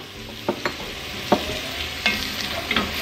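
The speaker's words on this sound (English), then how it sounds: "I'm just gonna scrape the pan to kind of help remove all of that" A utensil scrapes the bottom of a hot pan while it is deglazed with cooking wine: several sharp, distinct scraping strokes spaced over a few seconds over a soft background sizzle, close and without talk.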